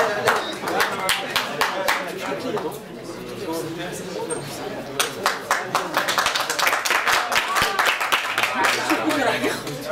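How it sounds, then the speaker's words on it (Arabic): A live audience at the closing ceremony of a national photography salon in Merouana, Batna, applauds a participant with sustained clapping in a reverberant hall, briefly fading then rising again, while a presenter speaks over it. "تصفيقة لرفيق دلبي الذي أتانا من مدينة قسنطينة"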